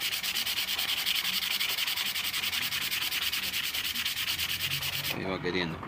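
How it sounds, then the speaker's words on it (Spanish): Finer sandpaper is rubbed back and forth over an old knife blade, a brisk, steady scratching rhythm up close that stops abruptly near the end. "ahí le estoy pasando una lijita más fina"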